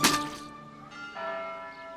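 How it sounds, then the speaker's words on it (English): Chiming kingdom bells as a storybook sound effect for a Frozen Fever read-along: a bright struck attack followed by sustained, overlapping bell tones that ring on with a second strike partway through, alone without talk. "Suddenly, the kingdom bells began to chime."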